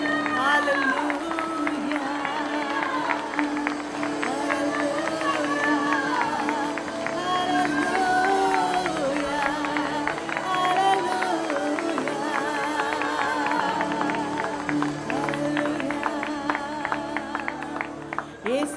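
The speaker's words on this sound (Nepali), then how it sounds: "आउनुहोस् हामीहरू ताली बजाएर प्रशंसा गर्नेछौँ" Congregation clapping along to a worship song at a church service, steady claps blended into loud group singing and music throughout.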